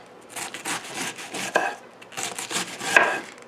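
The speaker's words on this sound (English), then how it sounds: "now we're going to start slicing these in very thin strips" A knife cuts cabbage into very thin strips on a board, a run of quick close rhythmic chops, about a dozen crisp strokes with short pauses, no voices.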